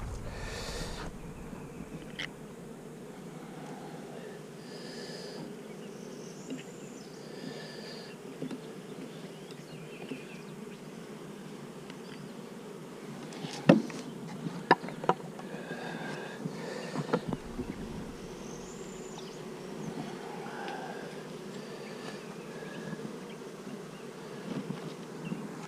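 Honey bees buzz around hives in a bee yard, a steady, dense drone close by with a few brief clicks and handling knocks partway through.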